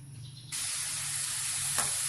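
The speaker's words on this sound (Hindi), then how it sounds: "प्याज को मैं फ्राई कर रही हूँ।" Onions hit hot oil in a kadai and burst into a loud, steady sizzle that holds close and constant after a quieter start, with a brief flare near the end.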